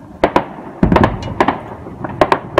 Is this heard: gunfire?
yes